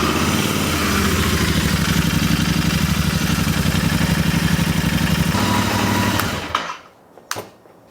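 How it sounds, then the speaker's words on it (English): A Royal Enfield Interceptor 650 motorcycle engine runs steadily at a fast, buzzing idle for about six seconds, then cuts off abruptly, followed by a few brief clunks. "Start the engine."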